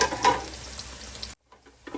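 Chicken curry frying in a pan as tomato is added, giving a close sizzle with a brief stir, then an abrupt cut to near silence and a few faint scrapes.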